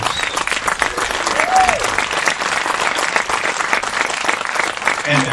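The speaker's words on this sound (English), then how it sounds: "Please, another round of applause for our conductor and leading chief petty officer," Sustained audience applause at a United States Navy Band Great Lakes concert in Earlville, dense steady clapping from a full hall with a few voices mixed in.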